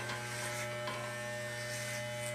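Electric hair clippers buzz steadily and up close while tapering short hair at the back of the head during a home haircut, a continuous, even drone with no talking over it.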